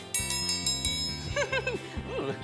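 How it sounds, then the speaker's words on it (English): A metal triangle struck several times in quick succession, each bright ring layered with shimmering overtones and decaying into a sustained chime, close and clear with no talk. "this triangle is really cool because it makes a really pretty ding sound"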